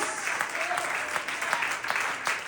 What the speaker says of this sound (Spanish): ¡Alguien le da un aplauso al Señor Jesús!